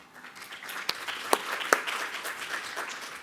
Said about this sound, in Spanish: que lo recibamos con un aplauso,